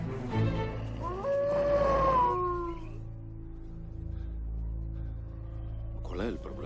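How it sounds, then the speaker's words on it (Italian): Wolves howling in the countryside at night: long, wavering howls rise and fall over a low rumble, heard from inside a car, loud at first and then fading to a fainter trailing howl. "Sono soltanto lupi."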